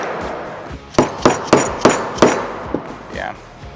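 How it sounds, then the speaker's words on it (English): A hammer drives a punch to knock out a badly worn hub bearing: five or six sharp, ringing metallic blows in quick succession, close and loud, with a lighter tap toward the end. "Grab a punch and a hammer. We'll see if we can't just get the bearing out this way."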